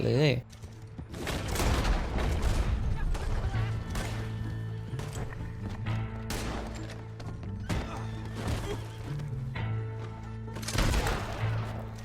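Gunfire and shotgun blasts during a legendary bounty mission in Red Dead Online, repeated loud booming shots over a continuous game soundtrack and ambience, with someone narrating throughout.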